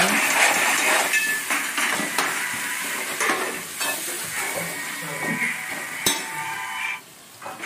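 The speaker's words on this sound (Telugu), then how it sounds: "క్యాలీఫ్లవర్ ముక్కలు వేసుకొని కాసేపు మగ్గించుకోవాలి మగ్గించిన తర్వాత టమాటా ముక్కలు కూడా వేసుకొని మగ్గించుకోవాలి" Cauliflower and tomato pieces cooking in oil in a pan for an egg curry, a steady hissing sizzle with stirring scrapes and a sharp clack near the end.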